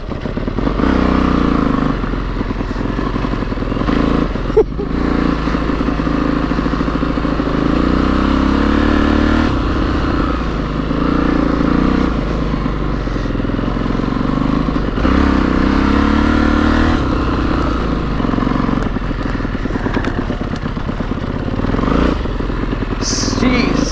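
A loud Aprilia RXV450 dirt motorcycle engine runs continuously for the whole stretch while ridden along an overgrown trail, its pitch rising and falling with throttle changes, close to the listener, with no talk.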